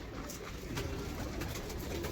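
Breeder pigeons coo steadily at close range, a soft continuous murmur of low rounded calls overlapping without pause.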